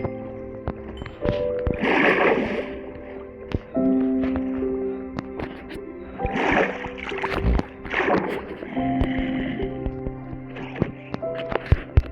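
A boat glides across water in Minecraft, with repeated paddle splashes and watery swishes over a low in-game droning hum, plus occasional sharp clicks, all fairly close and steady.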